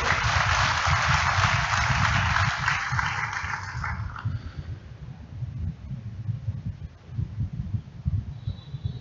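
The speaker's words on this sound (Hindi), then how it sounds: "हमें सबको एक ताली जोरदार बजानी चाहिए" An audience claps together at a university foundation day ceremony: dense, loud applause for about four seconds, then it dies away into a low hum.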